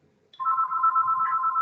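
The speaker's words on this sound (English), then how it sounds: "Excuse me while I switch off my phone." A phone rings close by, a steady electronic tone that starts abruptly and holds without a break; no one speaks.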